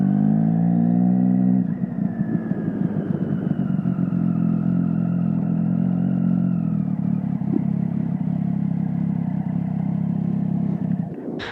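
Triumph Street Triple 675 motorcycle exhaust, idling with a smooth steady drone before a blip of revs, then settling into a lower even rumble that holds until a brief sharp burst near the end.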